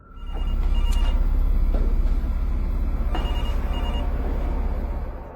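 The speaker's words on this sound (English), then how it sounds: "He then starts hearing a phone ringing." An old-style telephone bell ringing continuously against a low rumbling hum, slightly distant and warbling, with no talking.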